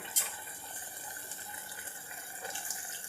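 Water runs and splashes steadily into a cooking pot of mutton, a soft continuous trickle from a pour, fairly quiet and close.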